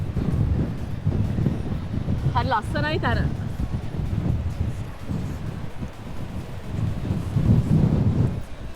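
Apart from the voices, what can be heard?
wind blowing at the coast, Warrnambool, Australia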